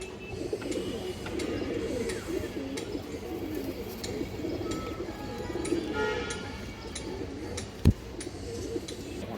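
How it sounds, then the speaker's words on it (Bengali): Pigeons of high-quality breeds, including a mated pair, coo repeatedly in a loft, a steady low murmuring chorus with faint chirps and one sharp knock near the end. "এগুলো কবুতর ডাকাডাকি"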